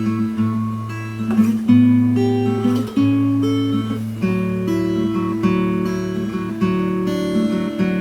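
An acoustic guitar plays a chord pattern, picking the bass strings and strumming steadily for several bars. It is close and clear, with no voice over it.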